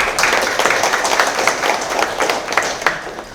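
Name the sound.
audience applause at a press conference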